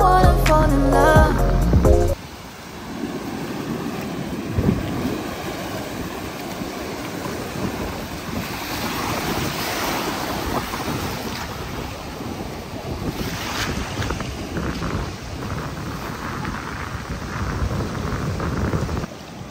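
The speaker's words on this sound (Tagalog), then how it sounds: "Sobrang napakalakas po talaga ng hangin." Strong wind roars at a beach camping ground in Tottori, Japan, buffeting the microphone in a loud, continuous rush with surf-like swells, following a brief burst of music at the start.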